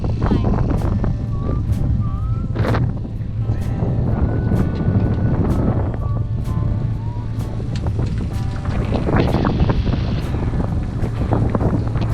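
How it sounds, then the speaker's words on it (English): A sailboat motors through San Diego Bay; a steady low engine drone runs throughout under gusting wind buffeting the microphone, with people talking nearby. "Just motoring a little bit to get out of all this traffic."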